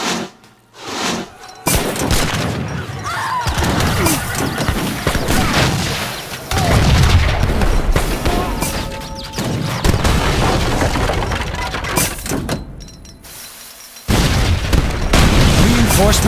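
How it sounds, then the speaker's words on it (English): Cannon and artillery fire booms in a siege of outposts around a Great Lake in Age of Empires III: Definitive Edition. Repeated heavy blasts and crackling volleys overlap with battle noise and a narrating voice through most of the stretch. "Don't forget the cannon."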